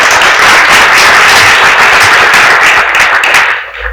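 Audience applause at a community program: dense, loud, continuous clapping from a crowd that thins and fades in the final half second.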